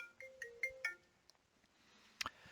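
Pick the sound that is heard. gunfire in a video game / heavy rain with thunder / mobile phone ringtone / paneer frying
mobile phone ringtone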